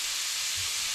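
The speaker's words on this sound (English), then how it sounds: "What we're going to be doing is caramelizing these onions." Onions sizzling in melted butter, a steady bright hiss filling the whole second, loud and close with a faint low rumble beneath and no talking.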